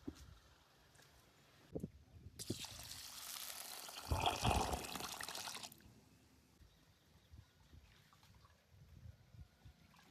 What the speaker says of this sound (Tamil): இப்போ தான் தண்ணி ஊற்றிருக்கேன் ஊறுறதுக்கு